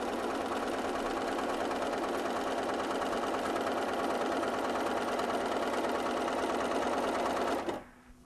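A sewing machine stitches a grid on Texture Magic fabric with a guide, running in a steady, even whir for about seven and a half seconds before stopping abruptly into near quiet.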